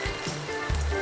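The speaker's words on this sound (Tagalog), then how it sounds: "nagpainit na ako ng oil. Prito na natin yung ating tikoy." Tikoy slices dipped in beaten egg fry in hot oil with a steady, close crackling sizzle and small popping bursts.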